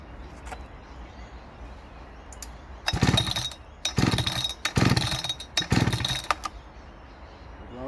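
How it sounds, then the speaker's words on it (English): A Farmertec G288 chainsaw with its base gasket deleted sputters through several rough, uneven bursts as it tries to start and catch. The nearby engine grows louder over the later half. "I love the way these saws start up so easy, normally."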